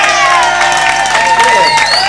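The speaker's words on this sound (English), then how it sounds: "I reckon we should all clap our hands together to say yes to Ballarat music" A crowd at a Ballarat music event cheering and clapping, with loud whoops and shouted voices rising over a busy, reverberant hall.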